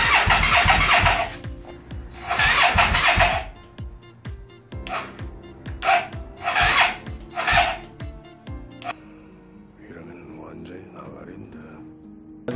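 An old, long-neglected Hyosung Comet 650 motorcycle with a throttle fault is cranked repeatedly, giving several loud bursts of starter grinding and sputtering that fail to catch, with a voice talking between attempts.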